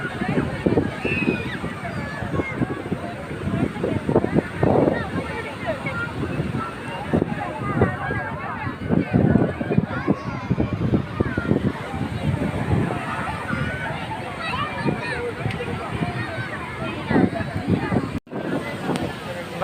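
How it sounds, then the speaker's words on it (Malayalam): Strong wind during a family outing near water, a steady broadband roar buffeting the microphone for the whole stretch, with faint voices murmuring underneath. "കാറ്റുണ്ടാവും നല്ല കാറ്റ്"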